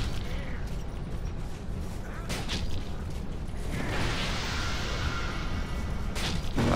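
A crossbow in the video game Dark Souls II fires a heavy bolt, followed by scattered mechanical clicks and creaks and a soft swoosh over constant low game rumble, with no talking.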